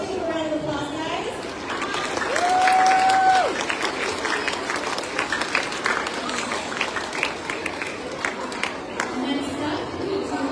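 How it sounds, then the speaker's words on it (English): Audience applause at a school assembly, many hands clapping together in a large room, loudest early and then continuing as a steady patter, with chatter and children's voices mixed in. "Let's give a round of applause, guys."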